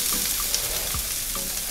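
Onions sautéing in a pan, with steady broadband sizzle throughout and a few faint clinks of a utensil against the pan.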